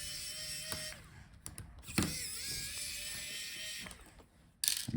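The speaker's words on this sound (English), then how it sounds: "So take out these two screws." Two small screws backed out of the I/O board of a Lenovo Legion Y540 15IRH laptop, with faint creaks and a few sharp clicks from the screwdriver against a quiet background.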